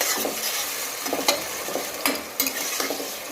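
Tomatoes fry in a pan for masala rice, with a close sizzle broken by repeated scraping and stirring strokes.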